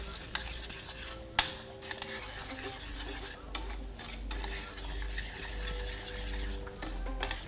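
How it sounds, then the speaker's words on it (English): A spoon stirs brown sugar into homemade barbecue sauce in a pot, with soft scraping and a few light knocks against the metal over a faint simmering hiss, close by and without talk. "We want some brown sugar. Give that a little stir."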